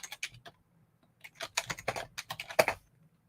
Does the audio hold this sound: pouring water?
no